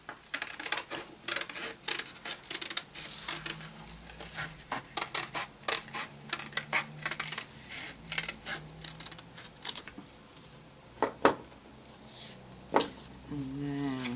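Scissors snip through card for a butterfly cage in a rapid series of crisp, close cuts and rustles, with a few louder clicks near the end.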